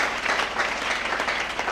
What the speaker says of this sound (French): Acclamez le Seigneur Jésus pour les âmes.